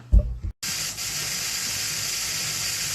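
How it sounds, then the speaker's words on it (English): Steam venting steadily from a Presto electric pressure canner while black beans are processed, a loud continuous hiss that begins after a brief knock and holds steady without a break. "we are venting. I know you can hear it, but you probably can't see it. There's steam coming out of here."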